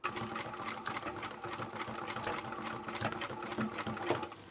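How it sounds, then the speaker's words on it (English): A sewing machine runs steadily, stitching a fabric pouch slowly around a curved seam, its rapid needle clatter continuous and close throughout with no talking. "whilst you sew nice and slowly around the curve."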